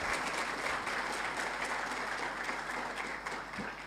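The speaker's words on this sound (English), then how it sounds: "Let's give him a bigger round of applause," Sustained audience applause at an International Anti-Corruption Day 2024 event at Strathmore University, a dense, steady wash of many hands clapping, fairly loud and continuous, tapering only slightly near the end.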